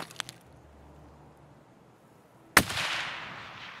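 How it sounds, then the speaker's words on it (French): Gunfire in Escape From Tarkov: a couple of faint distant clicks and pops, then after a quiet stretch one loud, sharp shot or very fast burst with a long reverberant tail, close and alone without talk. "ça a tiré super vite, j'ai l'impression"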